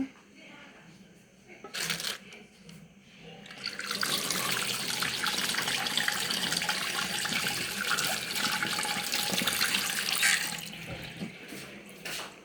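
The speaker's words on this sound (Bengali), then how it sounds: "এই তো আদাটা এখন ধুলাম" Fresh ginger rinsed under a running kitchen tap while spiced tea is being made: after a few brief knocks, a loud, steady rush of water starts and runs for several seconds before cutting off.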